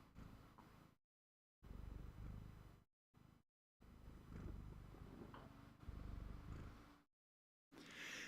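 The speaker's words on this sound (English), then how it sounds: "Oh my gosh, he's purring." A cat held up close to a microphone purrs softly in a low, steady rumble, broken by several abrupt silent gaps.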